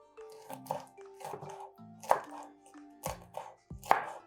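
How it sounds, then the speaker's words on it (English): A knife chops chilies into small pieces on a cutting board, giving a steady series of about seven sharp, close taps with short pauses between them, and faint tonal background sound underneath. "Just going to cut these into small pieces."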